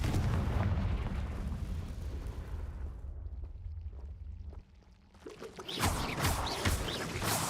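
A Confringo blasting spell in Hogwarts Legacy goes off as loud, rumbling explosions with a dense low roar, dropping briefly quiet before another heavy blast bursts in.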